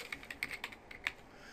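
Quick burst of keystrokes on a computer keyboard in an office setting, about a dozen close, crisp taps in an uneven rhythm, no talking.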